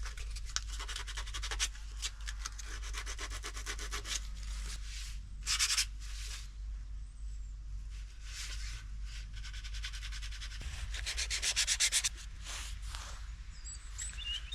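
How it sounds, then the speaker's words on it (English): Painted cabinet fronts in a camper van are hand-sanded with 180 grit sandpaper: close, scratchy back-and-forth rubbing strokes in irregular bursts over a low steady background hum. "Just using 180 grit sandpaper, just enough to take off some of the rough spots."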